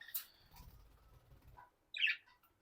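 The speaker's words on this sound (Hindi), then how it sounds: "5 तोते हैं।" Five pet parrots kept in a small home pet house give two brief, faint chirps, one at the start and one near the end, over a low background rumble.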